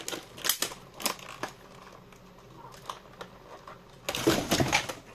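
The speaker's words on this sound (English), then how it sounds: "Trusty knife is going in the scissors." Scattered sharp snips and crinkly cutting noises, with a louder burst of rustling and crunching near the end; quiet otherwise.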